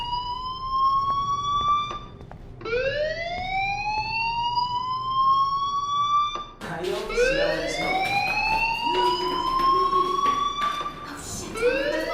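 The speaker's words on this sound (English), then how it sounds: "do you hear that fire alarm?" A fire alarm in the video game Life is Strange wails in repeated rising, siren-like sweeps that climb in pitch and restart, loud and continuous over roughly twelve seconds.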